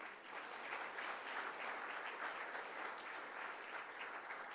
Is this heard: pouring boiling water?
no